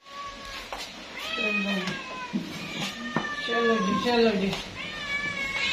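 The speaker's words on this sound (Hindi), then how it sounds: "बाहर 2 बिल्लियां बैठी हुई" Two cats meowing outdoors, their rising and falling calls repeating through the stretch at close range, with someone talking over and between the meows.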